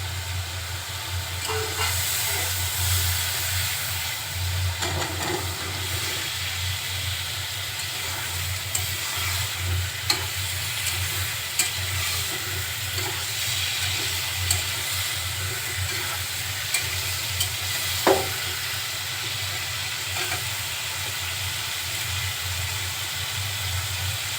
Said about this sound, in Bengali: কেটে রাখা পেঁপে আর আলুটা এর সাথে কষিয়ে নেব